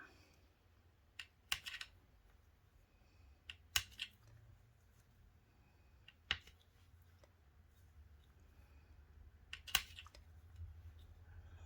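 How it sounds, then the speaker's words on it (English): A blade cuts thin strips of polymer clay, making a few quiet, sharp snips and clicks spaced a second or two apart against a soft, low background hum. "just gonna cut some thin strips"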